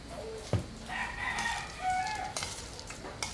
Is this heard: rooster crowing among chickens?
yes